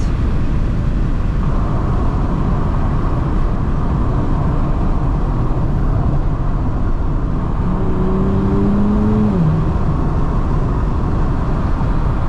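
A Nissan Z sliding sideways on a road at night, a steady loud engine drone with a brief rising and falling pitch sweep late on, no talking.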